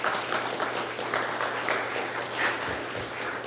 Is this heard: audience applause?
yes